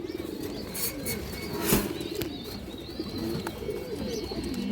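A pair of red Muslodom pigeons, sitting on eggs in a loft, coo steadily and softly at close range, with faint chirps and a brief flutter partway through.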